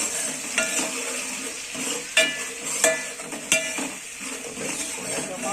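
Tempering fried in a pan for mosappa sambar, a steady close sizzle of hot oil broken by a few sharp clinks of a spoon against the pan, with no talking.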